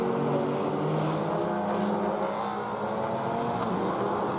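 A Formula 4 race car at Circuit of the Americas drones past with a sustained, loud engine whine that holds steady and swells slightly, with no talk over it.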